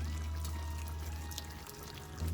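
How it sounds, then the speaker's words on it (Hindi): Kewra water pours steadily into a pot of chicken korma, a soft, close, continuous trickle lasting a couple of seconds with no talking. "ये देखिए, इसमें हम डालेंगे, ये केवड़ा है"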